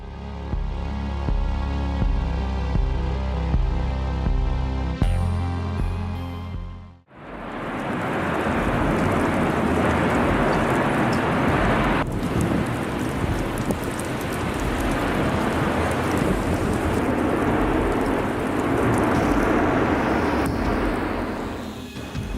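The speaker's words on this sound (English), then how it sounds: "Is he seriously out there in the middle of a hailstorm?" A heavy storm with large hailstones pounds down in a dense, continuous roar of impacts on surfaces, loud and steady after an opening stretch of music, with no talk.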